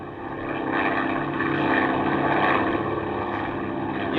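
A steady, loud drone of a propeller airplane engine, a sound effect from an old suspense radio drama, swelling slightly and holding continuously with no voices over it.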